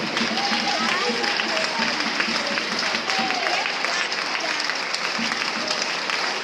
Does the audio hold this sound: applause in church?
yes